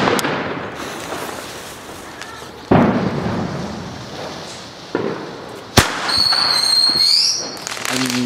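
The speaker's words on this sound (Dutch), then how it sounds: "Op zich knallen ze wel een stuk harder." Several loud firework bangs burst one after another, sharp cracks with crackling tails, ending in a whistling, fizzing shriek.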